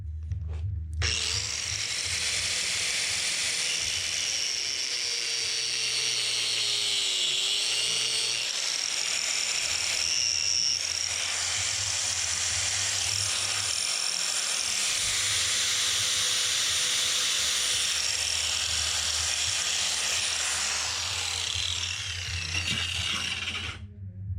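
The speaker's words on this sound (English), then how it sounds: "But what I am gonna do is take my cutoff wheel." A cutoff wheel whines continuously as it grinds through metal, a high, harsh screech with a low motor drone underneath, close and loud throughout.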